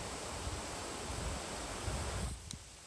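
Orbit Pro Series garden hose nozzle spraying water in a cone pattern, a steady close hiss that stops abruptly near the end, leaving only a faint background.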